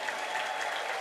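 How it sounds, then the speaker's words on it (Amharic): A church congregation in Dire Dawa ululates in praise, a dense, continuous high trilling chorus from many voices, steady and fairly loud for a brief moment without speech. "እልልታ ለጌታ"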